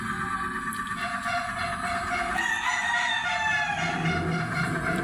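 A neighbor's chickens cluck and call at a distance while a rooster crows, faint against steady outdoor background noise.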